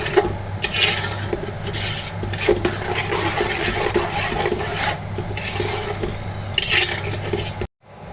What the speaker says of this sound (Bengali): এখন ওই মশলার ভিতরে আমি চালটা দিয়ে দিব